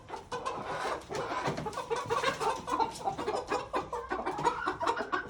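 A Silkie cockerel makes continuous low, throaty clucking and chattering calls, a deeper-voiced bird heard close up with steady overlapping vocal bursts and faint farmyard background.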